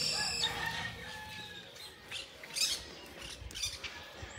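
Roosters crow and squawk nearby, several calls overlapping among clucking fowl and faint background noise.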